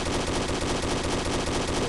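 Rapid sustained automatic fire from a Type-56 rifle in the shooter game CF Mobile, a dense, loud, continuous burst of closely spaced shots that fills the whole moment with no pause.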